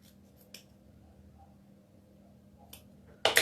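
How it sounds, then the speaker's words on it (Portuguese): Scissors that keep jamming snip through fabric while a doll's sleeve is being sewn, giving a few short, sharp cuts spaced apart in a quiet room, with a louder burst at the very end. "Deixa eu cortar com aqui essa tesoura, porque ela está travando."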